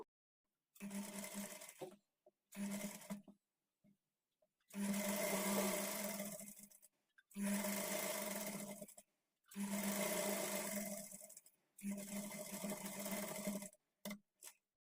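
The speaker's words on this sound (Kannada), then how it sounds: "ಸ್ಲೀವ್ಸ್ ಕಡೆಗೆ ಇಟ್ಕೊಂಡು ಸ್ಟಿಚ್ ಮಾಡ್ಕೊಳ್ಬೇಕು" Sewing machine stitching the sleeve seam of a front-slit designer kurti, running in six steady bursts of a few seconds each with short pauses between, close and clear with no talking.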